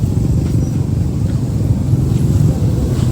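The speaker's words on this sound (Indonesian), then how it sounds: "Ya, ada mobil lewat." A car rumbles past at a busy market, a steady low engine drone with some wind buffeting, close and continuous throughout.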